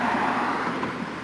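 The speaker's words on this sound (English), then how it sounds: "So as you can see, a car going by." A car drives past a house on the corner of a busy road in Hales Corners, recorded on a 1997 home camcorder, a steady broadband road whoosh with no voices.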